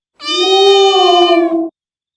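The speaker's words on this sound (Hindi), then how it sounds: "ये तो बिल्ली की आवाज है।" One loud, close cat meow, sustained and slightly falling in pitch, lasting under two seconds.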